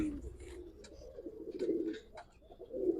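Silver-coloured Giribaz pigeons coo softly and steadily at close range, low rolling calls repeating throughout with faint rustling and no clear voices.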